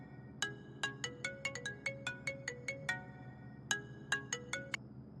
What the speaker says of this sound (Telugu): ఫోన్ అవుతుంది రోయ్ చూడు.